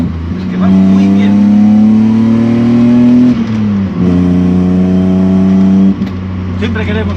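A restored BMW E30 with a swapped M52B28 inline engine drones loudly and steadily from inside the car on the road, pitch rising under throttle, dipping at a gear change, then climbing again.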